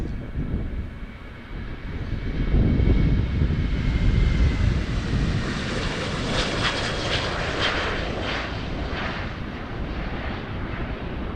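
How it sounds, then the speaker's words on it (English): Airplanes land on the Polderbaan runway at Amsterdam Schiphol, a loud, broad jet roar that swells and then holds steady, heard from a distance outdoors, with no speech. "planes in the background landing on the Polderbaan from the western direction"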